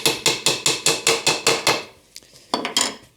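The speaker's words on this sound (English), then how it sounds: "sometimes your dowel fits pretty tight. That's why I like to keep a little hammer handy" A small hammer taps a tight wooden dowel into place with about nine quick, evenly spaced sharp knocks, then a short pause and a few more scattered taps, close and alone.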